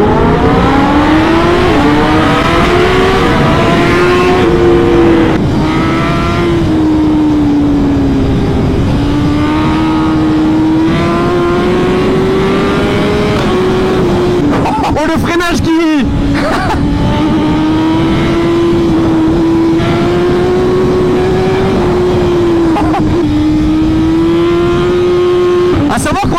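A tuned 2023 BMW S1000RR four-cylinder superbike making about 240 hp launches hard and pulls through the gears, its loud engine note rising and dropping steadily across each shift for a long stretch, with a brief break midway.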